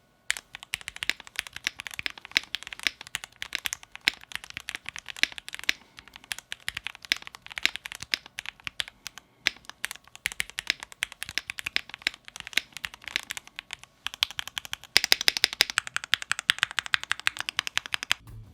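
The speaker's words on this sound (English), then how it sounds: "Sound of the keyboard without any mods." Steady, rapid typing on an unmodified mechanical keyboard, crisp clacky keystrokes in uneven bursts, close up, with a brief pause and a louder flurry near the end.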